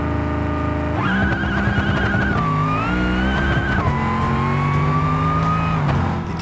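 A supercharged drag truck's engine roars as it accelerates hard on a street drag run, loud and close, its pitch climbing and then dropping through two gear shifts before it cuts off.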